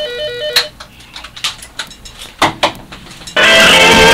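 A phone rings for an incoming caller during a sports radio show, with a short electronic ringtone pattern followed by scattered clicks and clatter, then a loud burst of broadband noise near the end.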